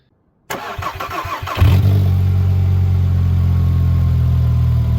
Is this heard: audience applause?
no